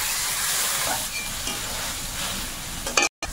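Fried river crab in a hot pan, a broad steady sizzle and hiss after water is poured in, with a few louder bursts of steam and clatter near the end.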